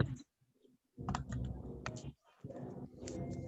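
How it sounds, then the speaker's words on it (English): Quick bursts of typing on a computer keyboard, close and fairly quiet, with clusters of key clicks separated by short pauses. "Okay, wait, I'm typing beta."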